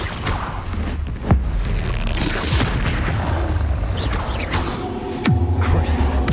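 The Bombarda blasting spell detonates in the video game Hogwarts Legacy, two sharp booming impacts landing a few seconds apart over a rumbling, mechanical game soundscape.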